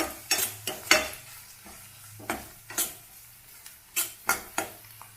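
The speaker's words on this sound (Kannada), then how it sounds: "ಎರಡೂ ಹಾಕೊಂಡು ಸ್ವಲ್ಪ ಎಣ್ಣೆಲಿ ಫ್ರೈ ಮಾಡಬೇಕಿದ್ನ" Green chillies fry in oil in a pan for egg bhurji, stirred with a spatula. About ten sharp, evenly spaced scraping strokes cut through a soft, steady sizzle, close and without talking.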